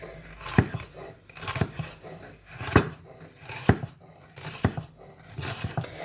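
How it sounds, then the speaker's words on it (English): A knife julienne-cuts vegetables on a chopping board, rolling back and forth with a series of crisp, fairly regular chopping taps, close by and alone. "we are going to use our claw and our bridge to cut the vegetables into a sort of julienne cut"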